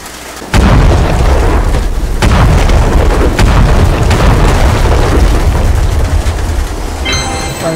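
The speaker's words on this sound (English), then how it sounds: "We'll have to blow it up to get through." A loud boom as a gate is blown up in the game Stormshot, then a dense rumbling roar of blasts and debris carries on for several seconds, ending in a rising metallic whine.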